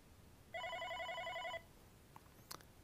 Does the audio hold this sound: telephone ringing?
yes